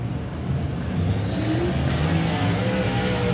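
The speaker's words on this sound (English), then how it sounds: "Next machine out in the 54 race car out of Lakeland, Tennessee." A race car engine at Thunderhill Raceway drones steadily throughout, loud and close, with a rising whine near the middle as the car accelerates during SAS qualifying.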